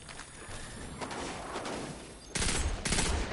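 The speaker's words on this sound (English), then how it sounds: "Exploding barrels!" Exploding barrels in Destiny 2 going off amid gunfire, a run of sharp blasts and crackling shots, with two heavy bursts close together near the end.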